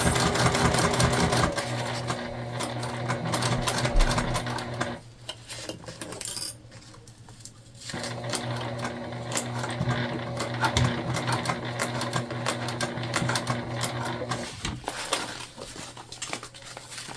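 Sewing machine stitching a lining piece into a pouch being made into a crossbody bag, a loud steady mechanical whir running nearly throughout, with brief pauses and restarts as the fabric is repositioned.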